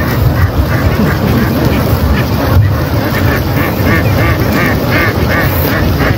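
A large flock of free-range ducks on a farm field, a dense continuous wall of overlapping quacking, loud and near, with no clear gaps throughout.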